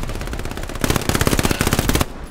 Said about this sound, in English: They have some sort of tank firing.